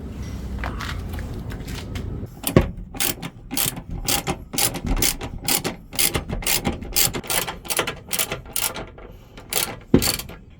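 A ratchet wrench turns truck seat bolts outdoors, rapid rhythmic clicking in quick bursts with brief pauses, close and fairly loud over a low background hum, no talking.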